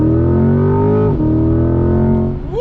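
A Chevrolet C8 Corvette engine revs hard and loud, its rising harmonic whine climbing steadily, dipping briefly at a shift near the middle, then climbing again before easing off at the end, with no talking.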